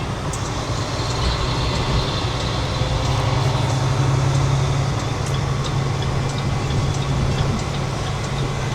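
A heavy truck engine rumbles steadily and close, its deep drone swelling slightly mid-clip as the driver revs in neutral and shifts into seventh gear, with no voices over it.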